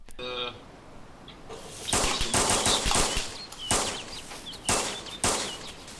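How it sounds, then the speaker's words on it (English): Gunfire trades back and forth in a large team battle in the video game DayZ: loud bursts and single shots crackle in clusters, some close and sharp, others echoing farther off, with no voices. "We continue to return fire."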